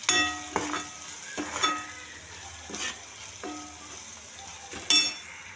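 Red amaranth greens frying in a pan with salt and turmeric, a steady soft sizzle broken by several sharp scraping clinks of a spoon being stirred against the metal at irregular intervals.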